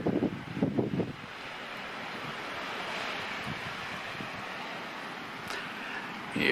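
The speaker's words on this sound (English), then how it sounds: "It's going to be like 40 mile an hour winds, gusting to 60 or something like that" Strong wind in a sand storm with 40 mile an hour gusts, a steady roaring rush that blows across the microphone, with a few louder buffets at the start.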